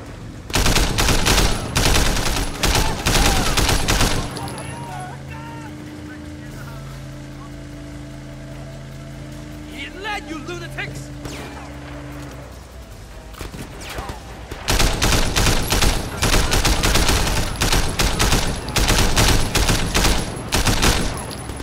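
Covering gunfire in the video game Sleeping Dogs, dense loud automatic bursts at the start and end with a quieter stretch between where a vehicle hums and a voice briefly speaks.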